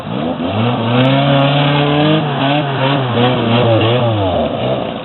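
A car engine revs loudly and steadily, its pitch rising and falling with throttle, close by and continuous with no talking.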